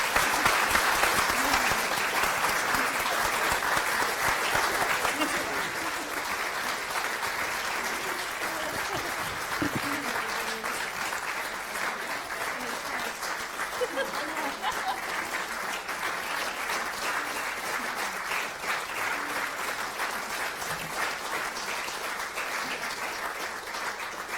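Sustained applause from a large audience at an annual patient meeting, honouring a guest called to the stage; steady dense clapping throughout, slightly louder in the first few seconds, with no voices over it.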